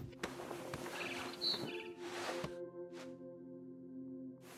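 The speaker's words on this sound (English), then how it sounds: "Then I heard chirping outside my window. It was a barn swallow going back to her nest." A barn swallow in the video game What Remains of Edith Finch gives a few short, bright chirps over a busy layer of game ambience and music. The calls come in quick bursts mixed into the background.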